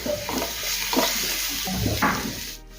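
Ginger garlic paste sizzles and fries with onions in a pan, with intermittent stirring scrapes over a steady low crackle, close and fairly quiet.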